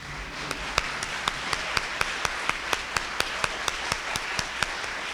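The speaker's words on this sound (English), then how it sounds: "applause?" Applause at a school-related Employee of the Year awards ceremony: sharp, evenly spaced claps ring out in a steady rhythm over a soft bed of wider crowd clapping and room noise.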